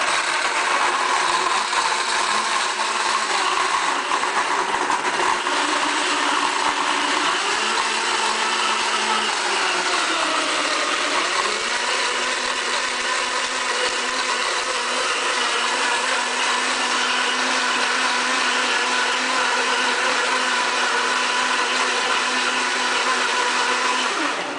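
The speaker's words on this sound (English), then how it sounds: "here's the main show, how the actual Blendtec works. Smoothie function." A Blendtec blender runs its smoothie program for about 25 seconds, a loud, continuous high-pitched whir with shifting motor pitch as the cycle changes speeds, heard up close and alone.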